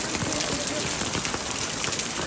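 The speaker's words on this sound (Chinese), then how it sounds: "这个雨啊，太大了，真的" Heavy rain pours down steadily, a dense hiss of drops drumming on a surface with no break throughout.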